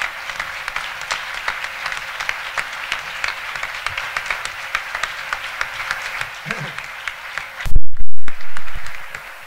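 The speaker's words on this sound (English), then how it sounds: "Give them a big round of applause." Audience applause at a Vermont housing and conservation fall conference for emerging leaders, a steady wash of clapping across the room with a few louder bumps and rustles near the end.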